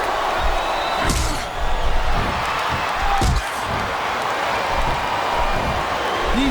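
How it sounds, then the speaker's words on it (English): A wrestling arena crowd in WWE SmackDown vs Raw 2007 cheers and roars steadily throughout a Kane vs Torrie Wilson submission match, with a couple of thudding slams rising above the continuous crowd noise. "I love hearing the crowd come alive"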